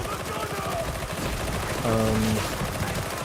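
Gunfire in the video game Darktide, rapid repeated shots as a steady crackling barrage with a brief tonal game sound partway through, under a voice talking.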